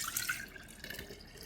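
Fruit pulp poured into canning jars during home canning on a homestead farm, a soft wet trickle and splash, faint and close, with no talking.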